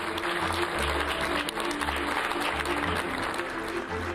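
Applause greets the presentation of a Mexican presidential cabinet, a continuous wash of clapping from a sizable crowd heard at moderate level, with a low hum running beneath.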